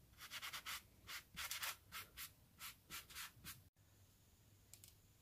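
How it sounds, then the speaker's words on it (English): Sanding block rubbed back and forth over the painted road surface of a model railway layout, a steady run of about a dozen close, even scraping strokes, then a short pause and a faint hiss. "just to take any shine off the actual paint is just again to go over it with a sanding block"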